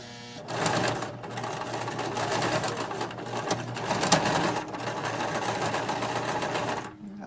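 A sewing machine stitches around a fabric glasses case at a quarter-inch seam, a fast, steady mechanical whirr running in loud bursts for several seconds before cutting off abruptly at the end.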